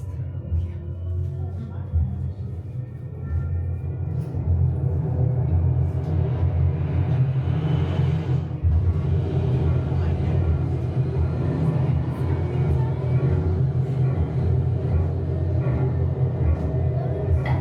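The Stellavator, a simulated space elevator ride down to Epcot, gives off a steady low rumble that grows slightly louder and continues under faint voices.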